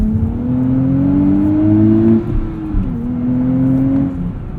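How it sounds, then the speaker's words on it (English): A 2023 Nissan Z spinning its wheels under hard acceleration as traction control steps in, loud engine drone rising in pitch then briefly dipping and recovering as power is cut, heard from inside the car. "Example there of traction control kicking in and limiting wheel spin"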